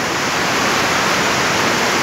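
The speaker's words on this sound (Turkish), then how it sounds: "burada da bir ırmak var ama feci bir ırmak akıyor" A fierce mountain river rushes past in worsening weather, a steady, loud, broad roar of churning water with no breaks.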